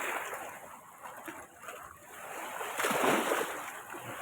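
Kaveri river at Erode in full flood, water surging and splashing in a steady broadband roar that swells louder near the end, close by with no talk.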